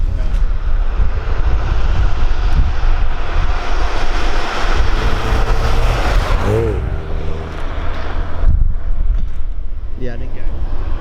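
A Classic Mini van fitted with a Maniflow twin silencer exhaust rumbles steadily with a deep, continuous drone, with people talking nearby and wind buffeting the microphone.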